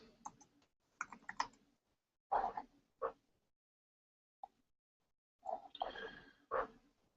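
Quiet, close clicks of a computer keyboard being typed on in short clusters, separated by pauses of near silence.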